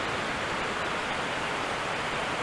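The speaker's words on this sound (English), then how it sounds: "this is the last waterfall of the day" Upper Whiteoak Canyon Falls in Shenandoah National Park pours in a steady, dense roar of falling water, loud and unbroken throughout, with no voices.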